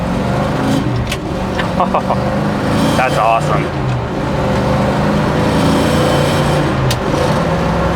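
A 1967 Chevrolet Chevelle SS with a numbers-matching 396 big block rumbles loudly from inside the cabin as it accelerates, a steady deep engine drone with a brief shift dip, while someone speaks over it.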